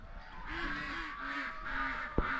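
Several short nasal quacks from a duck repeat over steady background noise, with one sharp knock near the end.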